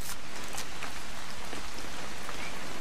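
Steady rain pours down in the video game What Remains of Edith Finch, a dense hiss of drops spattering on a surface with no voices, constant and fairly close throughout.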